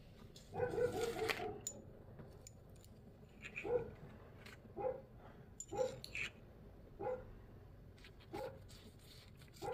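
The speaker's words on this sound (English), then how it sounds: "Where that dog's always barking." Dog barking outside, a cluster of quick barks followed by single spaced barks repeating every second or so at moderate distance, with no talk over them.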